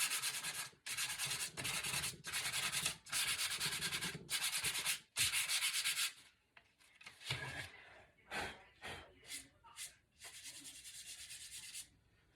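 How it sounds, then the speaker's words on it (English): Painted furniture is lightly hand-sanded to give it a distressed look. The close, steady scraping strokes come in rhythmic bursts, then turn into shorter, scattered rubs with quiet gaps between them. "So I just lightly sand over it."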